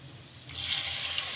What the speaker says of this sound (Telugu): ఇక కొన్ని వాటర్ పోసుకోవాలి